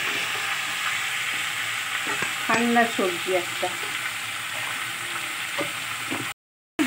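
Khero, a vegetable, and small diced lentil dumplings sauté in a pan with a steady hiss of frying, a few utensil scrapes and clinks in the middle, and a brief spoken comment before it cuts off.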